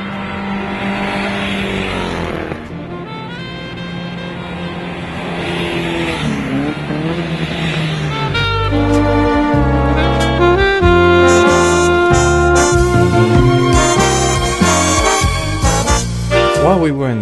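Vintage race cars at a VSCC race meeting roar close and loud without a break, their engine notes rising and shifting in overlapping layers, growing harsher and denser partway through as the revs climb.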